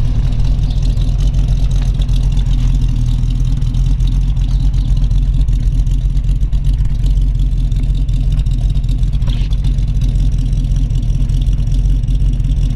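A 1932 Ford Tudor all-steel resto rod with a 350 V8 idles steadily, a loud, deep, even rumble that holds unchanged for about thirteen seconds with no talking.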